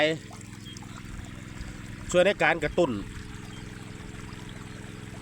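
Irrigation water runs into a furrow in a jujube orchard, a soft steady trickle heard beneath someone speaking throughout.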